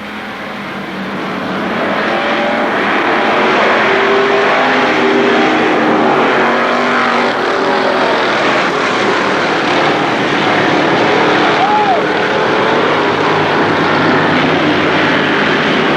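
A pack of race cars at Kil Kare Speedway taking the green flag in a 1994 Labor Day championship. The roar swells over the first seconds into a loud, sustained engine drone from the field.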